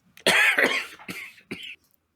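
A close, harsh fit of coughing: several rough bursts in quick succession, then silence.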